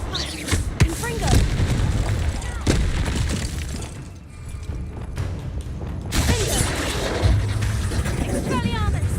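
Blasts of the Confringo fire spell and other combat effects in Hogwarts Legacy, loud and close, with repeated booms and crackles under a man's spoken spell calls and game dialogue.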